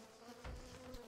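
Bees buzz in the video game Don't Starve Together, a faint, steady insect drone with a low humming swell partway through and no speech.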